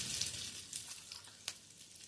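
Mustard seeds, cumin and asafoetida, with a few curry leaves, sizzle in hot oil for chinch poha, a steady close crackling hiss with a few sharper pops.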